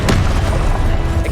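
An Expelliarmus spell is cast in the video game Hogwarts Legacy, giving a loud, dense magical boom that fills the whole short moment with a rumbling burst.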